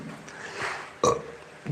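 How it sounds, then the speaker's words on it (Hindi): A single short, close burp after drinking water, following a quiet background hiss with no talking. "हम पानी पी रहे थे तो बार बार डकार आ रही थी"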